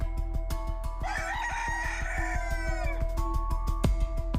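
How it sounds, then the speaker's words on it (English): A rooster crows once in a long, rising and falling call over a steady ticking background, with clucking fowl nearby. "The De Roper family had had enough of cocks crowing all night"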